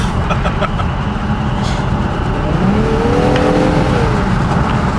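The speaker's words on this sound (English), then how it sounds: "You can hear the turbo spool up a lot more though." An Infiniti Q60's engine drones loudly and steadily toward about 6,000 RPM while a rising whistle-like turbo spool sweeps upward, with road and exhaust noise throughout.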